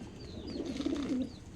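A homing pigeon in a loft gives one soft, low, rolling coo, close by, with faint chirps in the background.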